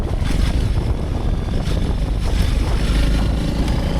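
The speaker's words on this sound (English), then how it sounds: "Oh my God, the wind." Cold winter wind in Finland at about −20°C roars and buffets the microphone, giving a loud, continuous low rumble that never lets up, with no voices.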